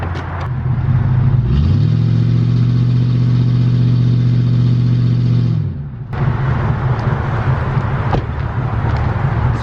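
A truck engine revs hard at a steady high pitch for about four seconds, then drops away to rough idle and clatter as the attempted burnout fails.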